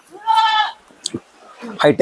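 Goats in a raised wooden-plank goat shed bleat close by, with one clear bleat at the start and another at the end, separated by a few soft knocks.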